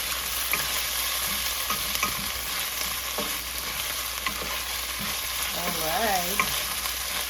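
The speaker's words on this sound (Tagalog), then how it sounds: "Gigisa ko sa bagoong." Garlic and bagoong shrimp paste are sautéed in a hot pan for ginataang kalabasa at sitaw, a steady close sizzle with scraping stirs throughout and a brief spoken word over it.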